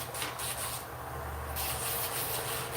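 An electric nail grinder with worn sandpaper sanding a dog's nails, a close, continuous abrasive buzzing and rubbing that shifts briefly in tone partway through.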